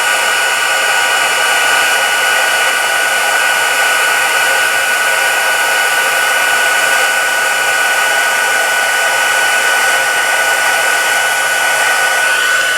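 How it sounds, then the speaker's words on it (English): A handheld heat tool blasts hot air in a steady, loud, unbroken roar with a thin high whine running through it, close up and constant throughout, with no voices. "that heat tool gets really hot"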